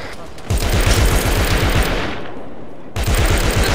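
Rapid bursts of plasma gun fire from an Arma 3 Warhammer 40K mod battle, a dense rattling volley that pauses briefly near the end and then resumes, loud and close, with a voice faintly under it.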